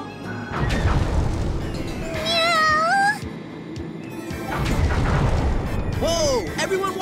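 Two drawn-out cat meows stand out over loud rumbling booms and crashes, with a voice speaking in between, in the video game Atelier Iris.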